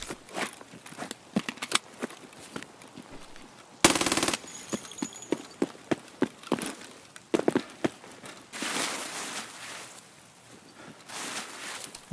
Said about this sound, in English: No recoil, chat, I'm telling you, it's a laser gun.